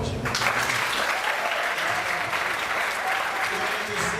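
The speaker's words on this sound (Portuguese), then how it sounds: "dá uma salva de palmas, gente" Audience applause after a comedy sketch, a full crowd clapping steadily and fairly close, sustained at an even level for several seconds, with a few voices mixed into the noise.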